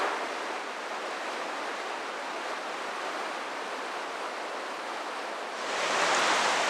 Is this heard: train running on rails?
no